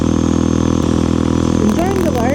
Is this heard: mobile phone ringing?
no